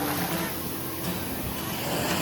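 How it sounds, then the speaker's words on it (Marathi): A big ocean wave surges in at Kashid beach with a loud, full roar of crashing surf that fills the whole moment, close and constant. "मोठी लाट आली आहे बघ"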